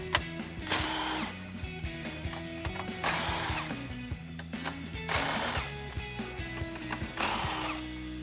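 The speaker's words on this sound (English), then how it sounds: "I'm switching over to an impact gun and a deep socket, so let's get those off." An impact gun with a deep socket removes 10mm grille bolts on a 2014-2015 Silverado 1500, whirring in four loud, hammering bursts, each about a second long, with mechanical clicks between them.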